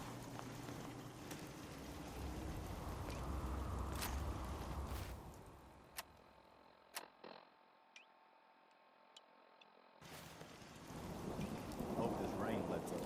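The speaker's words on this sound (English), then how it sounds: "Hope this rain lets up soon." A rainstorm with thunder in the game Fallout 4, rain hissing steadily and low thunder rumbling beneath it. The rain fades midway to a quieter stretch with a few sharp clicks, then swells back to full strength.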